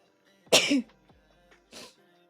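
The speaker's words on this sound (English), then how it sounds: "I have to sneeze." Sharp sneeze bursting out close to the mic in a quiet room, followed by a second shorter burst a moment later.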